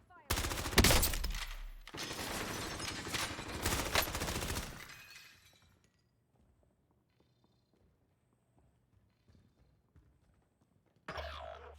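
Bursts of video game gunfire, loud rapid shots and a dense volley for several seconds that cut off into near silence, then a sudden loud burst returns at the end.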